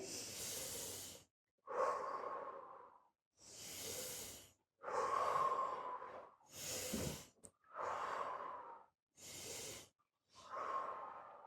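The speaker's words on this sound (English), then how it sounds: "when we breathe in, we're going to go up and we breathe out" Slow, deep breathing during a children's yoga exercise, with eight alternating inhales and exhales, each one or two seconds long and separated by short pauses, close and soft with a breathy hiss.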